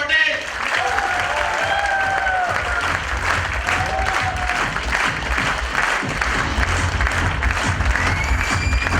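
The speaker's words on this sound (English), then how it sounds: "So please put a huge round of applause in welcoming Dr. Jayesh Patel." An audience applauds to welcome Dr. Jayesh Patel at an event connected to international cricket, with sustained, steady clapping from a large crowd and voices murmuring underneath throughout.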